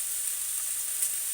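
Boneless chicken sautéing in a hot pan, a steady bright sizzle with no talking.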